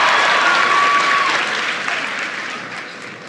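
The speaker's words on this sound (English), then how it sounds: "Please give him a big round of applause." An audience at a political speech breaks into loud, dense applause that slowly thins out and fades over a few seconds.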